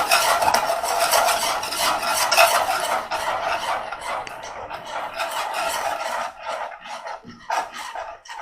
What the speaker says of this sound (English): Give that a mix round.